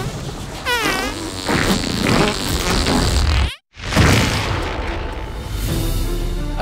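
A long, loud, buzzy fart sound from the South Park: The Fractured But Whole video game, a sputtering rumble that breaks off in a brief silence and then resumes as a second drawn-out blast.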